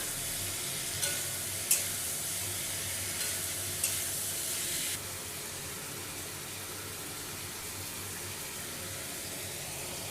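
Cauliflower and potato pieces sizzle steadily in a pan of cooked-down ginger-cumin spice paste for a Bengali paneer curry, a close broadband frying hiss with a few stirring clatters early on, then a quieter steady sizzle.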